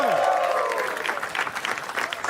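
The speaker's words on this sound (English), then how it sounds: "Can we have a louder round of applause" A short burst of crowd applause starting after a brief rising tone, clapping steady and moderately loud.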